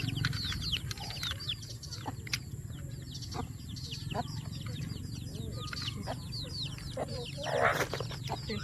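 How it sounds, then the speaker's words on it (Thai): Chickens fighting make repeated sharp clucks and squawks alongside chirping birds, with a constant low background rumble and faint voices underneath. "ไก่ตีกัน"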